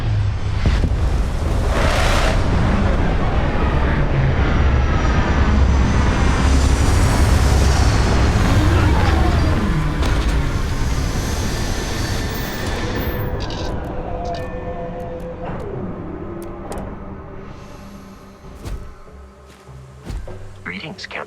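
A spaceship in Starfield lands with a loud, roaring rumble of engines and wind-like blast that gradually winds down, leaving thuds and mechanical settling sounds as it touches down.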